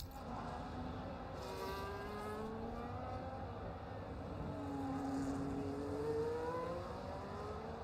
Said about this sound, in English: Turn the volume down because the cars are a bit loud.